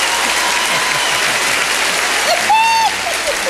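A studio audience at a comedy show applauds loudly in a dense, rain-like roar of clapping that is judged by an applause meter, with a brief whistle rising above it midway.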